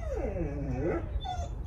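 A dog whimpers and yips in a series of wavering, high-pitched whines, fairly close, over a steady low background hum with no talking.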